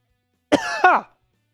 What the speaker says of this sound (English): Celebratory cough.